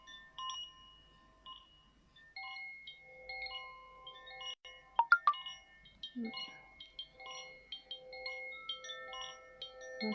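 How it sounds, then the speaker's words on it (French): Electronic phone beeps signalling a low battery, a string of short tonal bleeps and chirps of varying pitch with a few sharper louder blips in the middle, heard alone without talk. "Mon téléphone qui m'annonce que j'ai plus de batterie, ou très peu de batterie."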